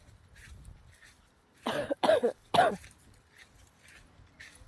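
Three harsh coughs in quick succession, close and loud, in an otherwise quiet room.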